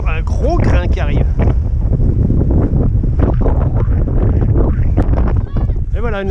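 Gusting coastal wind of 25 knots, rising to 45, blows at Cap de la Chèvre on the Crozon peninsula as a squall approaches. It buffets loudly and continuously beneath someone talking.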